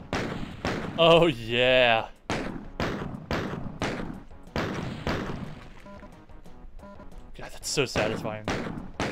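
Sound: shotgun shooting a barrel in the video game Doom

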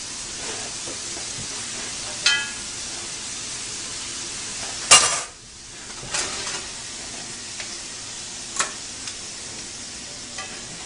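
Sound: draining cooked hamburger into a colander

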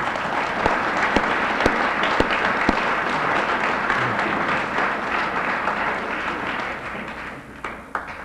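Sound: audience applause at dedication ceremony

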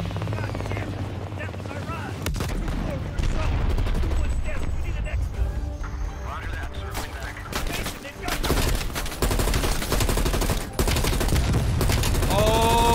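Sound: gunfire from a weapon in Call of Duty: Black Ops Cold War video game

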